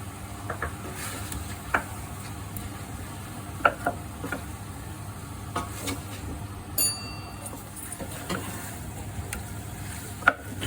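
Spicy battered chicken frying in a pan while being stirred: a steady low sizzle with scattered light ticks and scrapes of the utensil, fairly quiet and continuous, with no speech.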